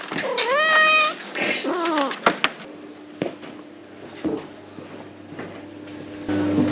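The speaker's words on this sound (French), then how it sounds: "Le chat, il arrête pas de nous suivre." A cat near a forest in Borneo gives several loud, close meows at the start, followed by softer scattered noises and faint background sounds.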